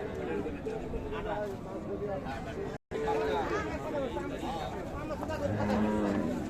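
A Friesian cow moos several times close by at a cattle market, long low calls rising over a steady background murmur of people talking, with a brief dropout midway.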